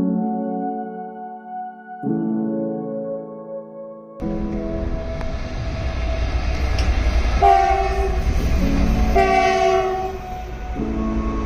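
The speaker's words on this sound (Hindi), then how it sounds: "प्लेटफॉर्म पर आते ही ट्रेन भी आ गई थी" A local train arrives at Palta railway station platform, opening with loud blasts of its horn in two tones, followed by a rumbling, rattling approach with squealing brakes as it pulls in close.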